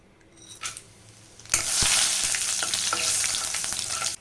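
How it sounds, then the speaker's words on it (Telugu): Biryani spices hitting hot oil for egg dum biryani, a sudden loud sizzle that swells and holds steady, with faint stirring and utensil clinks underneath and no voices. "ఇప్పుడు ఇదే ఆయిల్లోకి బిర్యానీ స్పైసెస్ వేసి ఫ్రై చేద్దాం"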